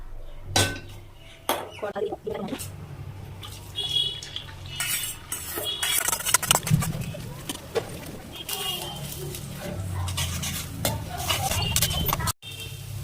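Noodles for egg chowmein stirred in a pan with scraping and metal clinks, irregular and close, a faint sizzle beneath and a voice speaking briefly.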